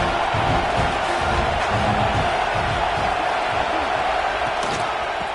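A college football video game stadium crowd roars in a dense, constant wash of noise during a Citadel versus FSU matchup, with a play-by-play commentator talking over it.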